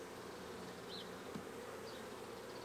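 A swarm of honey bees hums at a hive, a faint, low, continuous buzz with a couple of individual bees briefly whining past close by.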